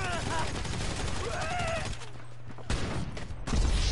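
Gunfire in GTA V Online, a burst of sharp shots with a rattling, fusillade-like character near the start and a few more cracks later, over game ambience and background voices.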